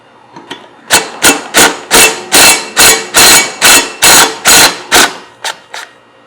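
An impact wrench hammers on a lawn mower blade bolt in a rapid run of about a dozen loud, evenly spaced bursts, then a couple of shorter taps as it trails off.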